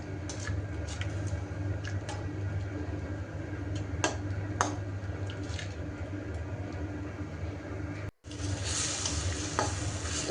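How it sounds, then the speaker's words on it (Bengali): Spice paste for hilsa dopeyaja sizzles steadily in hot oil while a spoon scrapes and stirs through it in repeated close strokes, with a brief break near the end before the frying resumes. "মশলাটা কি প্রথমে তেলে ভেজে নিয়েছি।"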